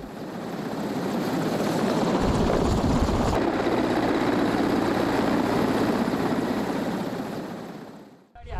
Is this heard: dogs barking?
no